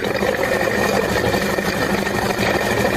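A Honda CD 70 motorcycle engine runs with its tappet cover removed, a steady, busy mechanical clatter and idle hum heard up close and continuously without any talk.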